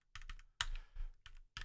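Clattering keystrokes on a computer keyboard come in short, irregular bursts, close but fairly quiet, with no voices.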